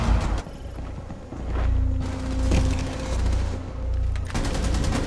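Gunshots in Rainbow Six Siege on the Kafe Dostoyevsky map, sharp cracks scattered over a rumbling, droning background, fairly loud and irregular.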